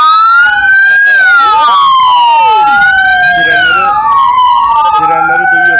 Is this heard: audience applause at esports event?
no